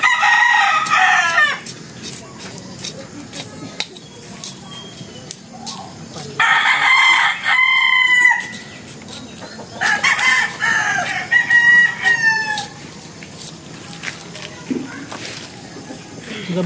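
Roosters crow repeatedly outdoors, several loud cock-a-doodle-doo calls spaced across the recording with clucking fowl and someone talking in between.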